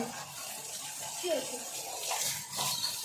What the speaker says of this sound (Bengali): কলটা বন্ধ কর।